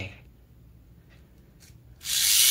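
A faint rubbing hiss gives way to a loud, steady high-pitched whir that starts abruptly near the end, a Tamiya mini 4WD toy car motor on a new battery spinning up close by.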